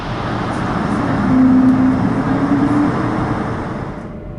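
Airbus A220 airliner taxiing, heard from inside the cockpit as a steady, loud broadband engine and rolling rumble with a faint tonal whine building partway through.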